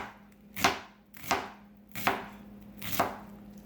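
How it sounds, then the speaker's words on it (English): A knife chops an onion finely on a board in four crisp, evenly spaced strokes, close and clear, with no talking. "I'm cutting the onion really tiny, of course, small"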